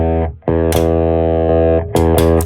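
Heavily overdriven, tape-style saturated electric guitar chords in a 90s rap metal production, pushed through a Magneto tape machine overdrive plugin, sustained and loud with a brief gap and sharp re-attacks near the end.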